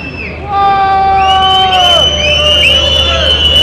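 Football stadium crowd in a Croatia versus Serbia and Montenegro match whistling and shouting to distract a penalty taker, sustained loud piercing whistles and jeers that swell after a brief quieter start.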